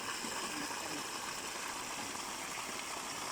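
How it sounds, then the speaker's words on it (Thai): Water from a solar-powered pump pours out of a two-inch pipe onto a field in a steady, broadband rush that runs unbroken throughout, fairly faint and with no voices. "น้ำไหลแรงมากเลยครับ"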